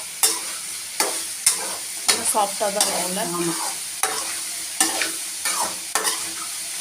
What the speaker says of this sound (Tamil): எண்ணெயை போட்ட உடனே கொஞ்சம் ஒரு 2 நிமிஷம் நல்லா வதங்கிடும்.